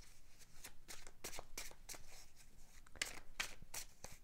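Rider-Waite tarot cards are shuffled in quick, crisp riffles and slaps, close but fairly quiet, with irregular bursts over a few seconds.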